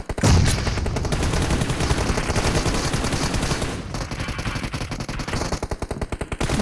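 Rapid automatic gunfire from a mobile team deathmatch shooter game played on an Infinix GT 10 Pro, loud and continuous bursts with sharp repeating cracks throughout, briefly thinning near the middle before resuming.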